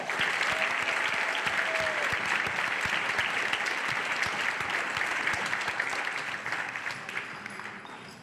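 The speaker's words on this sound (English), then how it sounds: "Let's give them a big round of applause." Steady applause from a graduation crowd at an 8th grade ceremony, many hands clapping densely and close, tapering off slightly at the end with faint voices underneath.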